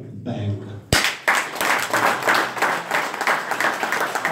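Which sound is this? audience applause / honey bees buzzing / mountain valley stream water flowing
audience applause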